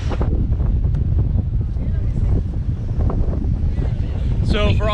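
Wind sweeps along the seafront on Mykonos, Greece, a steady rushing roar with people talking under it and a brief burst of voices near the end.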